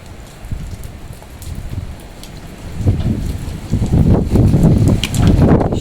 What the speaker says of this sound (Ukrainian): у нас на Харківщині моросить дощик